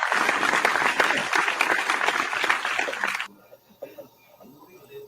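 A crowd claps loudly and steadily for about three seconds, then the applause cuts off and a few quieter sounds follow.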